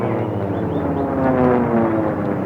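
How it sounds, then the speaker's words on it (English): Piston racing airplanes, including the Sea Fury 'Blind Man's Bluff' number 88, roar past at a pylon air race, a steady loud engine drone that swells slightly as they pass, with no talking. "let's pick up these two airplanes here as they come by"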